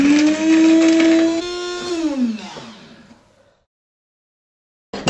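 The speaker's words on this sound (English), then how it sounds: "I'm going to use my spice mill for that" An electric spice mill whizzes spices with a bit of salt in a loud, steady motorised whir that winds down and stops, followed by silence and a brief knock at the end.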